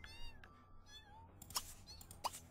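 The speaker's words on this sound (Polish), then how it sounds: "O, jak miauczy." A cat in the game The Sims 3 gives a few soft, high meows, quiet and close, with faint background game sounds and a couple of short clicks.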